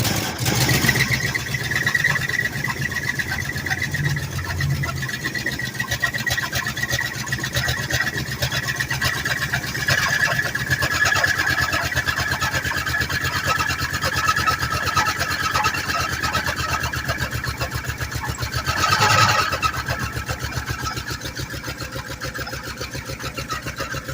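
A Lincoln's engine cranks over as it tries to start, a loud, steady, rhythmic churning that runs for the whole stretch and swells briefly near the end, with no talking.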